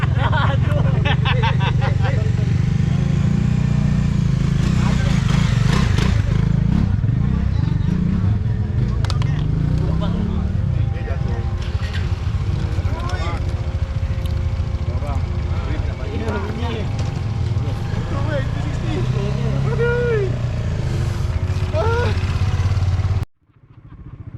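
Motorcycles on a group ride, steady engine drone and shifting revs throughout while riders talk over it, with wind noise, cutting out abruptly near the end.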